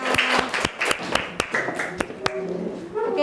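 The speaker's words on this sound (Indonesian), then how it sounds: "tepuk tangan buat kita semua" A group in a classroom claps their hands: a run of sharp, uneven claps, near and fairly loud, with voices underneath.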